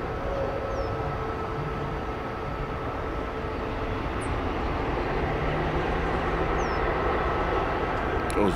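Airliner jet engines at an airport, a steady broad rumble with a faint whine, heard from a distance and fairly quiet throughout.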